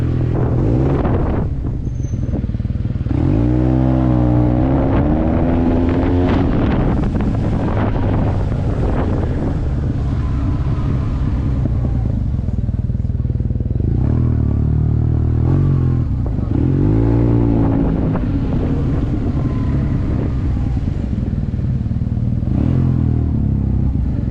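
Yamaha T-Max 530 DX scooter fitted with an Akrapovic exhaust being ridden, a steady loud engine drone with rising revs buried under heavy wind buffeting on the microphone.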